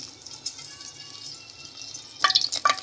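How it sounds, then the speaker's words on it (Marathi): Oil hits a hot kadhai in a home kitchen during pasta cooking, a sudden crackling spatter near the end after quiet kitchen background and a few soft clinks. "आणि ह्याच कढईमध्ये मी आता तेल टाकते."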